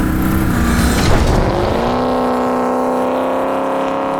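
Jeff Lutz's 1957 Chevy street car revs loudly up close, its engine note climbing and then settling into a steady high-pitched drone as it pulls away under power.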